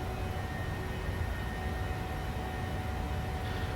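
Airliner jet engines in a flight simulator drone as a steady broadband roar with faint tonal whine, holding constant without talk over it.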